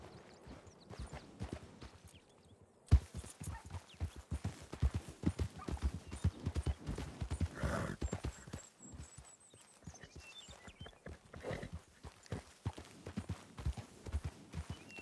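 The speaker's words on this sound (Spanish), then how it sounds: "Joder, qué paz tienen los caballos de aquí" Horses in a ranch roleplay video game clip-clop in quick, uneven hoofbeats. The sound is quiet and close, with occasional louder thuds and a faint whinny.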